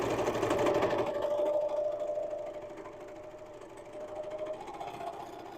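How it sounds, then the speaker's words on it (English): A serger sewing machine finishes curved seams on a princess peasant dress, its quiet motor whirring steadily with a faint rapid stitching patter that swells at the start, then softens and rises again near the end. "I just go around the curve and serge each one of these curved seams."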